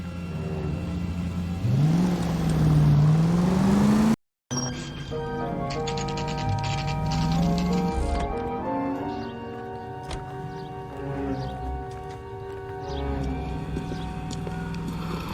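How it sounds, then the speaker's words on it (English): In the L.A. Noire game, a car engine revs and pulls out of a driveway, rising in pitch as it accelerates nearby, followed after a brief cut by a rumbling engine under music. "That's the car, Cole. Just pulling out of the drive"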